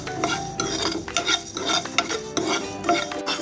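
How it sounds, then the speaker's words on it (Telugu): Fenugreek seeds, cardamom, cloves and cinnamon pieces dry-roasting in a pan, stirred continuously with a utensil, giving a close, busy scraping and rattling with a soft crackle underneath, with no voices. "ఇలా వేయించుకోవాలండి"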